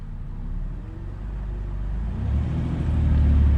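A car engine with a new ignition coil, after a P0303 misfire repair, is held in drive for a brake torque test, its low rumbling drone building steadily in loudness, close up and with no talk.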